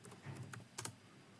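Quick bursts of keystrokes on a computer keyboard while importing a Python library, a few soft clicks followed by two sharper taps near the end, close and alone without talk.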